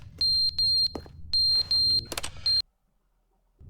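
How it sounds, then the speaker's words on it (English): A fire alarm in The Stanley Parable game, worn out and needing replacement, gives a run of loud, shrill, evenly spaced electronic beeps over a low background hum, then stops abruptly. "Damn, we've been here for so long, the fire alarm is,"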